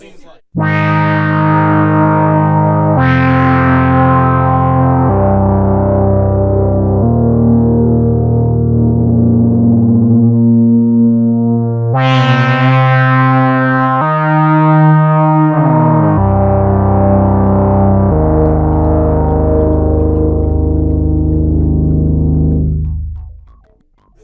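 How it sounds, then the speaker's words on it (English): A loud, buzzy Sequential Pro 3 synthesizer patch using three oscillators through a ladder filter holds continuous notes, its filter sweeping brighter and darker, with a few sharp note changes and a fade at the end. "here's kind of a classic 3 oscillator ladder filter type sound"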